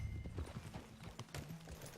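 Horse hooves clip-clop at a walking pace in Red Dead Redemption 2, quiet and fairly close, with a soft snort or whinny mixed in and no talk.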